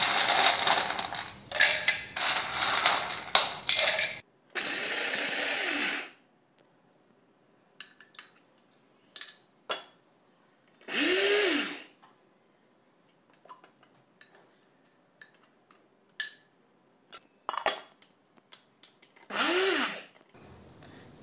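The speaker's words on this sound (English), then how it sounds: "So now I'll add little by little into the grinder." Mixer grinder grinding dry fruits into powder, running in several short loud bursts a few seconds each, separated by quiet gaps with faint clinks and handling noises.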